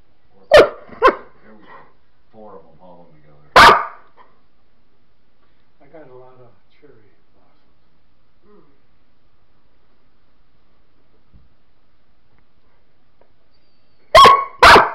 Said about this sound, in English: It's a Siberian husky.